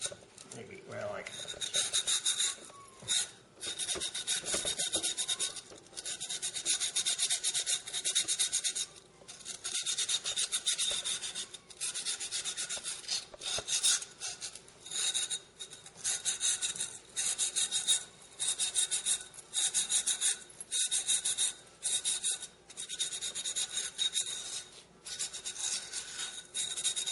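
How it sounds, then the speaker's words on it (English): Silicon carbide cloth rubbed back and forth along the freshly cut edge of a glass bottle, a steady close rasping in repeated strokes with short pauses between passes, no talking. "take a little cloth, a silicon carbide cloth, and just go along the edges of it"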